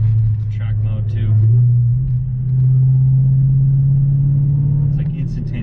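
Heavily modified Dodge Hellcat with a supercharger, a close, steady low engine drone rising slightly in pitch as revs build, with a person talking over it at the start and end.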